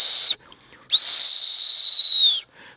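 Two loud, steady blasts of a shrill survival whistle supplied with a signal mirror, the first short and the second held about a second and a half, with no talk.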